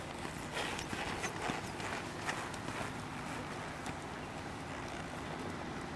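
Hoofbeats of a 12-year-old horse cantering in a dressage session, a steady three-beat clip-clop on arena footing, fairly close and continuous with no talk over it.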